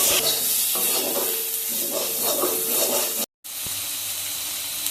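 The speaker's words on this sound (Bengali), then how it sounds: "টমেটোটা এখন মশলার সঙ্গে ভালোভাবে কষিয়ে নেব" Chopped tomato sautéing with spices in a pan for a Tengra fish curry, a steady close sizzle and hiss with stirring scrapes, broken by a brief dropout before the frying noise resumes.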